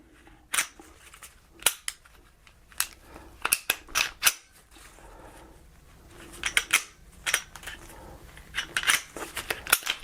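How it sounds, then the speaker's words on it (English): A PSA Dagger pistol being field stripped gives a run of sharp metallic clicks and snaps as the slide is pulled back, the takedown tabs are pulled and the trigger is dry-fired, close and crisp with quiet gaps between. "pull this back, pull the take down tabs on the side, pull the trigger"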